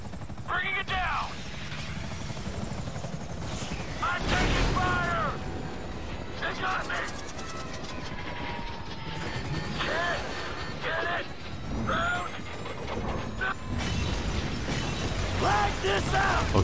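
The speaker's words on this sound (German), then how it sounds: "Okay, scheiße, unser Heli ist natürlich gefetzt." A helicopter shot down and destroyed in GTA V, a chaotic run of sharp bursts, clattering mechanical impacts and explosive pops over a rushing rotor and engine drone, with loud hits recurring irregularly.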